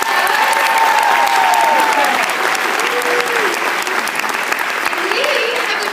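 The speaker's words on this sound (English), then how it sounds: "let's give the executive sales directors a round of applause" A crowd claps steadily and loudly throughout, a dense wash of applause with faint voices and whistles rising over it.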